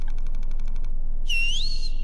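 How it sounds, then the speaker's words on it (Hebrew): A whistle in the Backrooms Escape Together video game, a single short rising tone heard after a rapid mechanical clicking burst, over steady background noise. "אני אעשה לכם שריקה."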